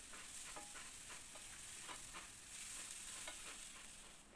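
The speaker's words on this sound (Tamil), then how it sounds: "1/4 ஸ்பூன் எண்ணெய் எடுத்து வச்சுருந்த பொருள் எல்லாத்தையும் போட்டு நல்ல பொன்னிறமாக வர்றது வரைக்கும் வறுத்துக்குவோம்." Ingredients for a mushroom gravy frying in a small amount of oil in a pan, with a soft constant sizzle and a run of light spatula stirs and scrapes, quiet and close, without any talking.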